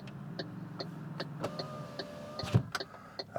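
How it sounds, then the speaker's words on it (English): An MG4 electric car's power window runs with a steady motor whine that rises and falls between clicks, clear and close inside the quiet cabin, with no talking. "So this version has got electric controlled windows."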